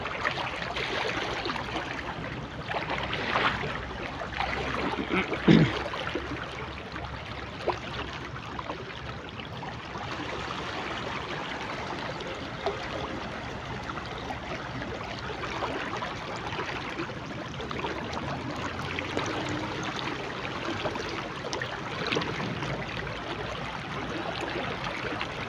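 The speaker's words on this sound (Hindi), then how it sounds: "खतरनाक फ्लड आ चुका है।" Dangerous floodwater rushes past in a broad, continuous roar, loud and close, with a few faint knocks and splashes rising briefly out of the steady churn and no voices.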